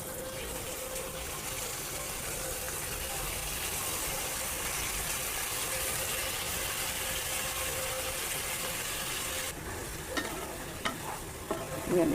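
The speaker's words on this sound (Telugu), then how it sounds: "ఇగోండి కడిగి పెట్టుకున్న చికెన్ వేస్తున్నాను." Washed chicken pieces hitting hot oil with green chillies in a frying pan for a chicken curry, a steady close sizzle with scraping stirring throughout that thins out toward the end.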